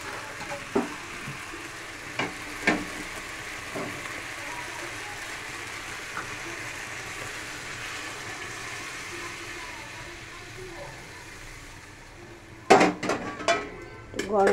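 Hot water is poured into cooked-down sizzling masala in a pan, giving a steady low frying hiss with occasional clinks of a utensil, then a burst of sharp spattering and clatter near the end.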